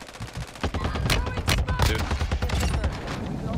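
Rapid bursts of video game gunfire crackle and rattle loudly and steadily, mixing machine-gun fire with single shots, while voices talk over the shooting.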